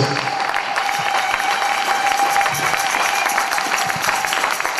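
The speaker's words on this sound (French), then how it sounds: "Acclame très fort le Seigneur." Church congregation applauding the Lord, dense continuous clapping from a crowd with a faint sustained voice or tone in the background, steady and loud throughout.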